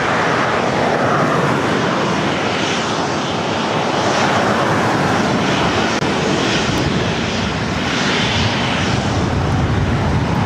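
An aircraft at LAX airport, a loud, close, continuous engine roar that swells and eases slightly over about ten seconds, with no voices.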